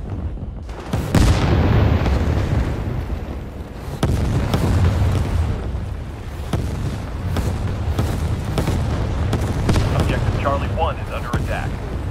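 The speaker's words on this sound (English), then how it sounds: "Friendly airstrike incoming. Artillery fire incoming." Artillery fire and airstrike explosions in a military shooter video game, repeated deep booms and blasts over a constant rumble of battle, with voices talking over them.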